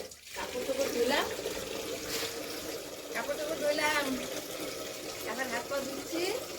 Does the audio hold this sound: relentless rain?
no